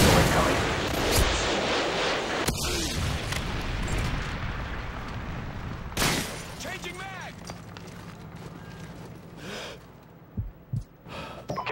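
Predator missile strike explosions in Call of Duty during Search and Destroy on the High Rise map: several sharp, booming blasts burst out at irregular intervals over a noisy battlefield din, with voices heard in between.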